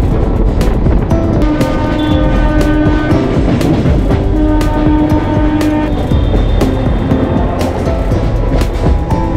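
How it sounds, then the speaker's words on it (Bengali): A moving suburban train between Konnagar and Rishra rumbles loudly and steadily from inside the carriage, with continuous wheel and rail clatter and a droning hum. "এখন কোন্নগর ছেড়ে ট্রেন এবার চলেছে রিফরার দিকে"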